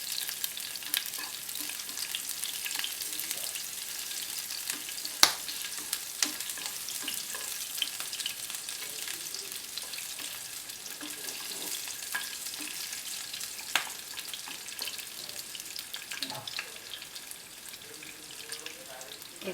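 Crushed garlic with sliced green chillies and a little dried chilli frying in a pan for a radish-greens dish, a steady close sizzle with occasional stirring clinks and scrapes, no talking.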